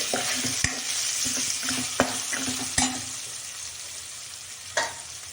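Spices sizzle in hot oil in a pan for a cauliflower, peas and potato bhaji, a steady close frying hiss punctuated by a handful of sharp spoon taps and scrapes against the pan, no talking.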